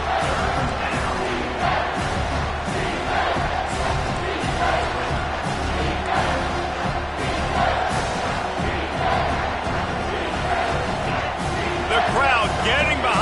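A college football stadium crowd roars continuously as fans rally behind the defense during a red zone stand, a dense sustained wall of cheering and yelling with commentary running over it.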